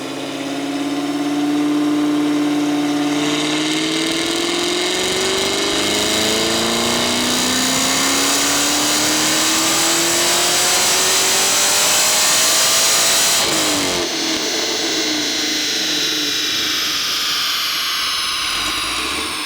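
A Camaro engine with upgraded heads and cam, running on E85, roars loudly on a dyno, pitch climbing steadily as it revs hard through the gears, then drops sharply and winds down, heard close and sustained.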